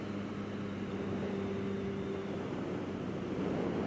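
Benelli 302S motorcycle engine held under throttle in fourth gear, a steady, continuous drone with a rising tone partway through, close and moderately loud throughout with no voices.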